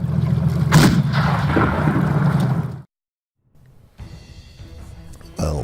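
A roughly 150 mm tank gun fires in a video game with a loud, deep boom near the start and a low rumble that cuts to brief silence, followed by quieter ambience and another sharp blast at the end.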